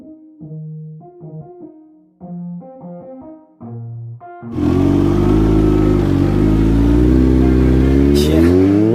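A supercharged 2020 Kawasaki Z H2 naked motorcycle is heard after a short burst of synthetic musical tones. The engine then holds a loud, close, sustained rev for several seconds and rises sharply near the end.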